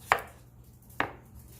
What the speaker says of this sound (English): I'm going to continue chopping these off camera